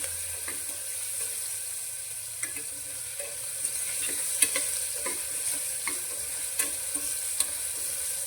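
Curry leaves and finely chopped tomato sautéing in a pan for a Gujarati dal tempering, with a steady soft sizzle and occasional stirring clicks and scrapes throughout, no talking.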